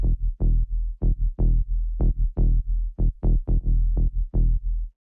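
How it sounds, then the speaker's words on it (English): A Diva synthesizer plays a deep sub bass line for Afro House, about a dozen short, round, punchy notes in a steady bouncing rhythm, loud and alone with no other instruments. "So I used the Diva for sub bass, and it sounds like this."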